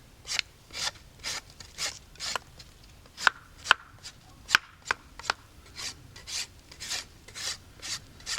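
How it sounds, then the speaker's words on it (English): Hand saw cutting a wooden pack-frame piece to length, a steady rhythm of rasping strokes, about two per second, close and clear with no talk, a few sharper knocks midway. "And I'll trim it to length in a minute with a saw."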